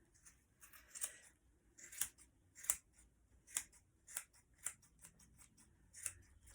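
Scissors snip repeatedly while trimming a yarn pom-pom, about ten crisp, close cuts in an uneven rhythm with short pauses between them, and no talking.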